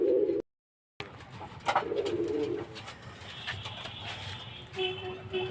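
Kamagar pigeons coo softly in a loft among their young, with low murmuring calls and faint chirps spread over a few seconds, set against a light background hiss after a brief dropout.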